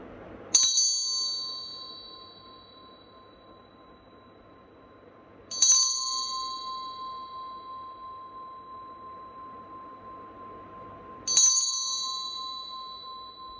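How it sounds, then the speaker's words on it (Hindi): A bright meditation bell rings three times at even intervals, each strike sharp and clear, then lingers with a long humming tone that slowly fades. "बेल की आवाज़ पे कंसंट्रेट करिए"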